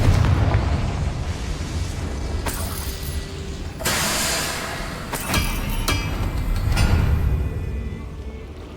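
A Confringo fire spell explodes in the video game Hogwarts Legacy, a loud roaring blast with crackling bursts around four and five seconds, set over a steady rumbling game background.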